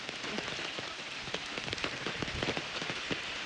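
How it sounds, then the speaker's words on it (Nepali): Dense, steady patter of heavy rain drumming on a surface, with scattered louder drops, no voices. "यति ठुलो पानी परेको"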